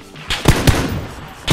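Gunfire in a shooting video game: several sharp, loud shots in quick succession, the two strongest close together near the middle, with a further burst at the end over a steady game background.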